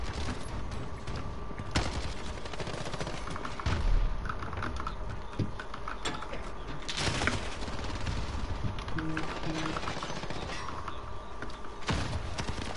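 Repeated shotgun blasts crack through a hectic online shooter match with the player being spawn-trapped, shots irregular and mid-distance amid dense, continuous game noise and clatter.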